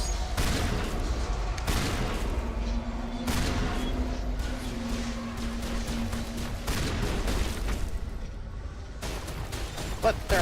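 Rapid gunfire bursts and booming shots while shooting enemies in a video game, dense and continuous with a sustained droning tone underneath.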